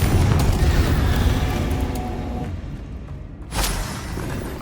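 Fiery Confringo spell blast in the Hogwarts Legacy video game, a heavy rumbling explosion that slowly fades, then a second sharp burst with a whooshing tail near the end.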